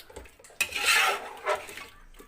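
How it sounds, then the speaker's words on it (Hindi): A spoon scrapes and clanks against a cooking pot while chicken pulao with yogurt is stirred, a sharp metallic knock followed by rasping scrapes, close and alone. "अब मिक्स कर लें इसको"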